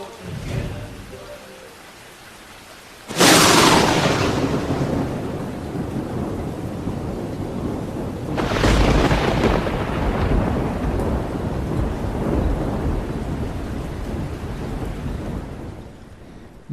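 Stormy weather with loud thunder cracks and rolling rumbles over steady rain and wind, a sharp burst near the start and another heavy roll midway, the downpour hissing on throughout.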